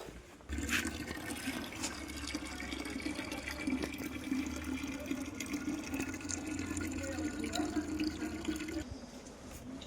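Tap water runs steadily and fills water bottles beside temple stairs in the hillside town of New Tehri, a continuous mid-loud rush lasting nearly ten seconds with no talk over it.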